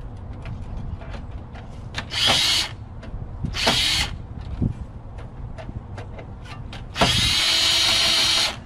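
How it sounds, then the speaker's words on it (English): A DeWalt power screwdriver whirs in three short loud bursts while dismantling a burned computer, separated by clicks and small handling clatter up close. "switch it to my DeWalt power driver, power screwdriver"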